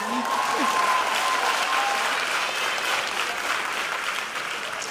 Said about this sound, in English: go ahead and applaud, it's all right